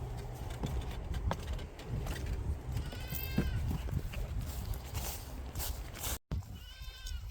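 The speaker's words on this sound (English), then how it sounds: "The goats have been so loud this morning, including the baby." Nubian goats on a farm bleating loudly, several wavering calls at moderate distance over a steady background hum, with no talking.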